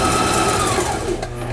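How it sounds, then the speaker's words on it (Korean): A repaired Brother K17 sewing machine stitching at speed, a loud, close, continuous whirring drone that eases slightly near the end. "지금 이제 수리가 끝나서 각종 기능들이 정상적으로 작동되고 있습니다."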